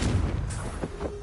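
Confringo spell explosion in Hogwarts Legacy on PS5: a brief low boom with a deep rumble, then a quieter crackle and tail, over roughly one second.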